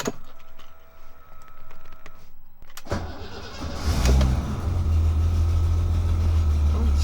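A BMW E30 turbo is started cold and settles into idle; a quiet interior with faint clicks gives way to the engine catching and flaring, then a steady low, rumbling idle close by.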